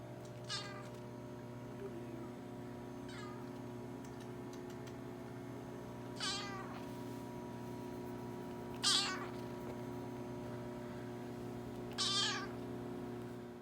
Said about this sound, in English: how her meows were so tiny